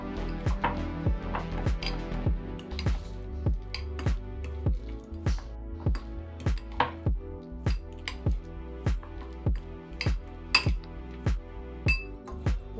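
Pepper powder and chili flakes being smashed and mixed in a bowl for cheese garlic bread, a steady run of sharp clinking utensil strikes at a regular rhythm, close and alone.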